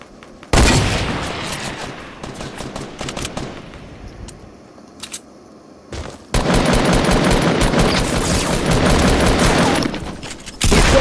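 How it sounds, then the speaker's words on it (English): Minigun in Fortnite Battle Royale, long loud bursts of rapid automatic fire: one rattling stretch, a quieter gap with scattered shots, then a sustained, dense volley running to the end. "A minigun? Kill the minigun guy."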